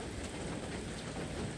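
Cold autumn rain falling outdoors near Rocky Falls and a small natural spring, a steady, even hiss of drops, moderately faint and unbroken, with no talking.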